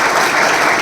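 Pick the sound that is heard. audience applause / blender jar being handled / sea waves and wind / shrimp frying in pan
audience applause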